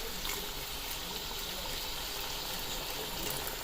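Boiled water is poured gently down the side of a pot of degi kofta curry, a steady continuous gushing and splashing stream at close range throughout, with no talking.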